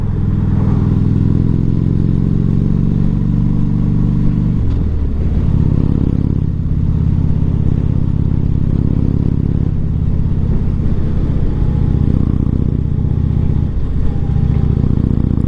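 A Harley-Davidson Road King engine drones loud and steady as it climbs a hill in traffic, a continuous low rumble with slight shifts in pitch and no voices over it.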